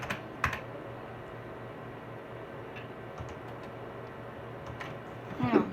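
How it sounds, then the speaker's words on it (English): Computer keyboard on a Power Mac G4 setup, tapped in a few quiet, scattered keystrokes over a low steady hum, with a short burst of clicks near the end and no talking. "You might hear my keyboard."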